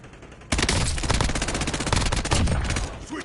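Sustained automatic gunfire in Call of Duty Warzone bursts in abruptly and hammers on in rapid, dense rounds, loud and close, with a few louder cracks standing out near the end.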